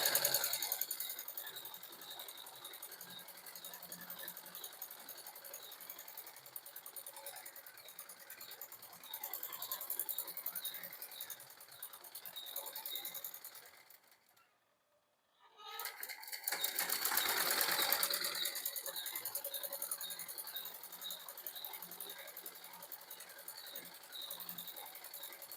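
A sewing machine runs in a steady, rapid whir while stitching button and edge fabric strips for a garment body, stopping briefly midway before starting again.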